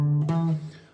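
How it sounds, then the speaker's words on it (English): A short guitar riff played on the open fifth string, a single strong plucked low note ringing out with a quick second attack, close and clear, fading over about a second. "you're going to have a little note or a little riff that sounds like this"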